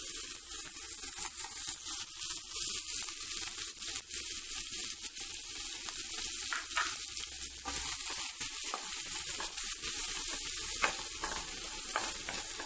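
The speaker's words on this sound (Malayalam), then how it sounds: "ഇനി അതേ പാനിലേക്ക് തന്നെ നമുക്ക് വെജിറ്റബിൾസ് ഒന്ന് ഫ്രൈ ആക്കി എടുക്കാം" Vegetables fry in oil in a pan for a homemade noodle dish, giving a steady close sizzle throughout, with faint scraping and stirring sounds and no talking.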